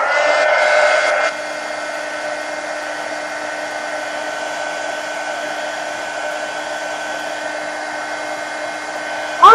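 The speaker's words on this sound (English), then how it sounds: "let me take a heat gun to it and dry this" A heat gun blows steadily while drying paint on a mixed media page, a constant whirring hiss that is slightly louder at the start and then holds even throughout, with no talking.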